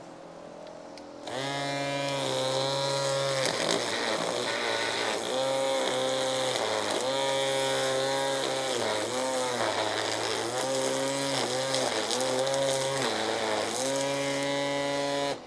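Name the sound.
Worx GT 3.0 and Black + Decker string trimmers trimming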